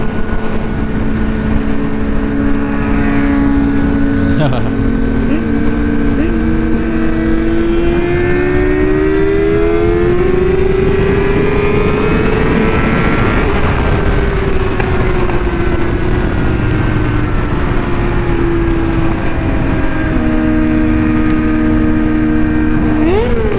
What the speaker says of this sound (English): He has no exhaust. He just took his muffler off.